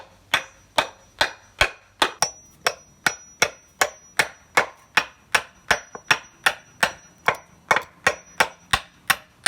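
Steady hammer blows drive a nail into a wooden board for a work surface, about two sharp strikes per second, close and loud, with no talking.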